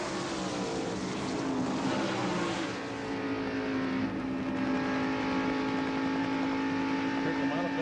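Stock cars race around a track, their engines droning steadily with rising and falling pitch as they pass, while commentators talk over the sound.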